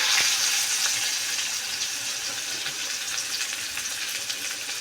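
Onion fries in hot oil with a pinch of asafoetida for a capsicum and potato sabzi, giving a continuous close sizzle with a few faint taps near the start, even and unbroken, with no voices.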